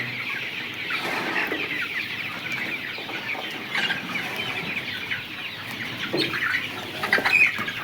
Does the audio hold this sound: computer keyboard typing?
no